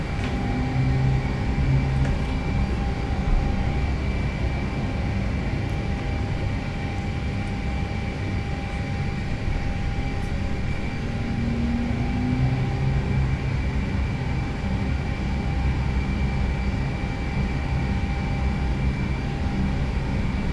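A British Airways Lockheed TriStar on a rolling takeoff from London Heathrow, its engines giving a loud, steady, broadband roar that holds unbroken for the whole stretch with no talking.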